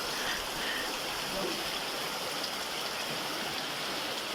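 Water pours steadily from a large mountain spring and waterfall in Bagh, Azad Kashmir, a constant broad rushing hiss at moderate level with no breaks.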